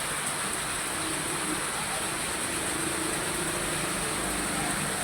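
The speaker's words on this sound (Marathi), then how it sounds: "आणि अजूनही थोडी झिमझिम चालूच आहे पावसाची" A light drizzle falls as a soft, even, continuous hiss, steady throughout with no distinct drops standing out.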